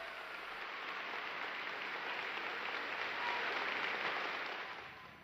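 Prolonged ovation for Stalin from a vast assembly: thick, unbroken applause like a roar of rain, steady and loud throughout before easing slightly at the end.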